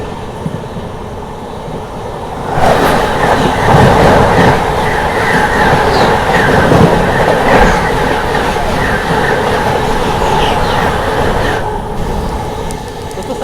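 A Vande Bharat Express, the New Delhi–Varanasi train, rushes past on the opposite track beside a moving Amrit Bharat train, a sudden loud roar with rhythmic wheel clatter that holds for about nine seconds before easing off.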